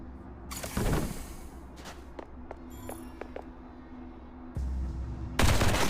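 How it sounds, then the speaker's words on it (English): Gunfire at powder kegs in the video game Duet Night Abyss: scattered sharp shots and clinks, a burst near the start, a heavy rumbling blast later on and another loud burst at the end. "The powder kegs we just found can be of great help now. Might as well stay away and shoot to detonate them."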